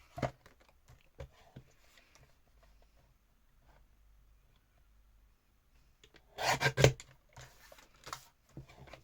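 A paper tag for a garden-themed journal being trimmed, first a few faint, sparse snips and rasps, then a louder burst of close cutting and rubbing near the end.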